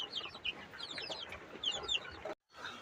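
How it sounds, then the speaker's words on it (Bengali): Young chicken chicks cluck and peep in quick high bursts at close range, a busy scatter of short calls over low background noise, briefly cut to silence near the end. "এই পাশে আছে আমার এর চাইতে একটু বড় মুরগির বাচ্চাগুলো।"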